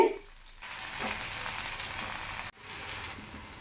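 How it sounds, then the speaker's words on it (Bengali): Onions frying in hot oil in a pan, a moderate steady sizzle that begins after a short pause, with a brief break near the end before the hiss resumes. "পেঁয়াজটাকে সুন্দর করে ভেজে নিতে হবে"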